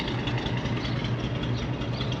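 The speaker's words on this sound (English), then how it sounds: "That Flathead V8, even as a single exhaust, has got a great sound." A 1950 Lincoln Cosmopolitan sedan with a 337 cubic inch Flathead V8 and single exhaust idles in a steady, low, rumbling burble, close and continuous with no talk over it.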